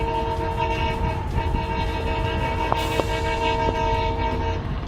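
A train horn sounding long and steady over the rumble and clatter of a moving train, heard on a railway track in Indore, with a few short sharp accents partway through.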